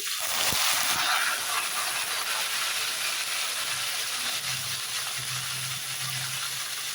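Steady sizzling hiss of whole spices frying in hot oil for cauliflower kurma, close and continuous, with a few faint clinks near the start.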